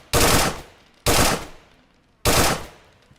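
Three loud, close automatic bursts of 5.56 rifle fire in the survival game DayZ, each roughly half a second long with a short decaying tail, evenly spaced about a second apart.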